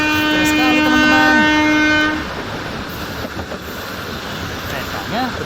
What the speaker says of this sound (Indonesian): Keretanya berjalan sangat kencang.